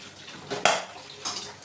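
Boiled cauliflower and its hot water tip into a metal colander in a brief splashing pour with a sharp clink of the pot, close and short, with no talk.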